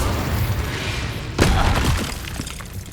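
An Incendio fire spell cast in the Hogwarts Legacy video game bursts out as a sudden blast midway, over a dense, noisy wash of battle sound that stays loud throughout.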